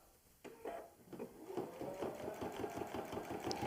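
A sewing machine stitching in the ditch along the seam lines of a quilt starts up and runs steadily with a fast, even mechanical chatter, close and fairly quiet.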